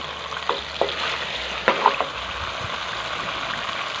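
Biryani masala with salt, cumin and whole dried coriander cooks over lowered heat in a handi. A steady close sizzle carries a few sharp spoon taps and scrapes.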